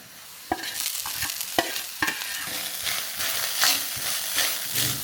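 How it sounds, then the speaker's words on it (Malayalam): Crushed chili tumbles into a sizzling pan in a Kerala home kitchen, steady frying hiss broken by several sharp clatters and stirring scrapes, close and fairly loud with no talk. "ഇനി നമ്മൾ കുറച്ച് കുത്തുമുളക് ഇതിലേക്ക് ചേർക്കുന്നു"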